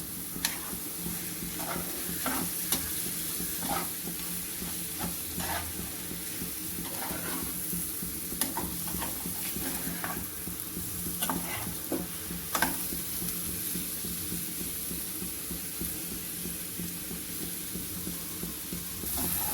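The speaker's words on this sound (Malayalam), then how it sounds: "ഇടക്കൊക്കെ ഇളക്കി കൊടുക്കുക അടുക്കി പിടിക്കാതെ നോക്കണം ഇളക്കി കൊടുക്കുക" Pepper egg masala dries out in a pan as a spoon stirs it, giving a soft steady sizzle with intermittent scraping clicks and taps of the utensil against the pan, close and moderately quiet.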